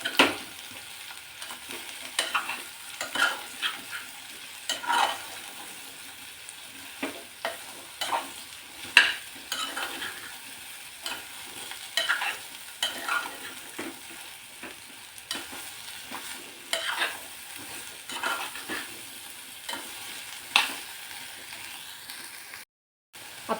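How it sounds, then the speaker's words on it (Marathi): Grated carrots being stirred and sautéed in ghee for gajar halwa, with a soft steady sizzle broken by repeated scraping stirs at an irregular rhythm, close and moderately quiet, no talking. "आता हे एकदा मिक्स करून घ्यायचं या तुपामध्ये।"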